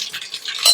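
Cumin seeds going into hot oil for a dal tempering, a short close sizzle and crackle lasting under a second.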